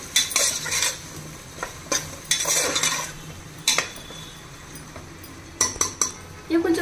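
Small onions, about fifteen, being stirred in oil in a pan for prawn pulao, with scattered metallic scraping and clinks of a spoon in short bursts over a faint low sizzle.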